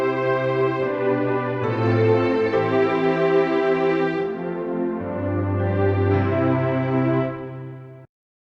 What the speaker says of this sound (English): you will hear a much louder strings volume right now